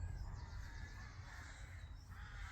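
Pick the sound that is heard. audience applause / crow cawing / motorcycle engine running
crow cawing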